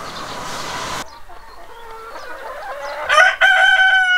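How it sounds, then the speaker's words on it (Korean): Chickens on a long-running poultry farm: a dense, noisy bed of clucking gives way to scattered individual clucks, then a loud rooster crow bursts out near the end, close and clear with no talk. "이 닭 소리만 들어도 압니다."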